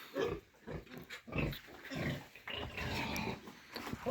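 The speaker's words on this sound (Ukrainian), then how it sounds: "А тепер тут у свині." Pigs grunt and snuffle in a pen almost continuously in short, rough bursts, close by, with no talking.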